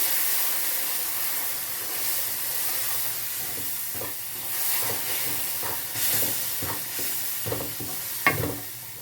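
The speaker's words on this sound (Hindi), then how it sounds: "अब ये धीरे धीरे हमने जो मिक्सचर गर्म किया है वो इसमें डाल देंगे और साथ साथ चम्मच चलाते रहेंगे" A hot liquid mixture is poured into suji halwa while a spoon keeps stirring, producing a continuous loud hiss and steamy sizzle with repeated scraping strokes and a few clinks near the end.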